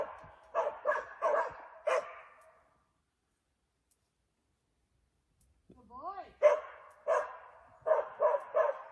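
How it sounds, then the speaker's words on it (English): Dogs bark in quick clusters near the listener, a burst at the start, a long quiet pause, then more barking with a rising whine, with no talk. "They hear another dog barking."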